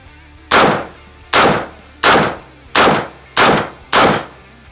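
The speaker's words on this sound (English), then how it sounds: "He got shot in the head." Six loud, close gunshots from a gold-plated AK rifle, evenly spaced about three-quarters of a second apart, each a sharp crack with a short decaying tail, with no talk.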